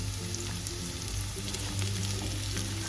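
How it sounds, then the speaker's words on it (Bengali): Ginger, garlic and green chili fry in a pan with a loud, steady, dense sizzle that crackles continuously throughout, with no voices over it. "এই সমস্ত আদা রসুন কাঁচা লঙ্কাকে আমি এখানে তিরিশ সেকেন্ড মতো ভেজে নেব"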